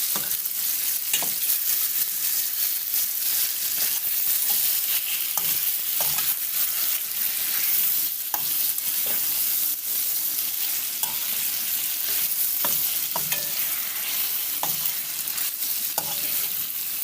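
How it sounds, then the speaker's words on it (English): Curry chicken pieces frying in a pot give a continuous close sizzle. Scattered scrapes and clinks of a spoon stirring the meat break through now and then, and no one speaks. "All my meat in. I'm gonna give it a stir."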